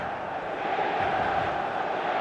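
Steady roar of a packed stadium crowd in a football video game, a dense, continuous wash of cheering and chanting without pause.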